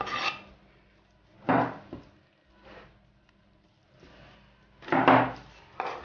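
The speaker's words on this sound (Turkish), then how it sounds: "Bütün hamsileri kıydık." A knife taps and scrapes on a board in short, irregular bursts while mincing anchovies, with quiet gaps between, close and fairly soft.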